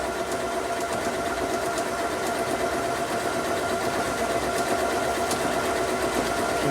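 A 3160PG Anniversary Edition sewing machine stitches a sculpture stitch in a straight line, its motor whirring steadily with a faint rapid needle clatter, continuous and close throughout.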